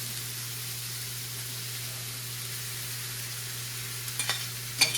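Shredded steak, a pound of it, sizzling steadily on a hot griddle for cheesesteak sliders, an even broadband hiss with a constant low hum underneath and a few small clicks near the end.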